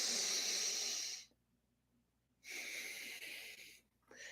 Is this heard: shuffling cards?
no